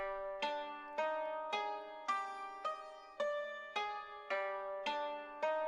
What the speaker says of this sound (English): So one of the main features in this particular section is this Japanese instrument.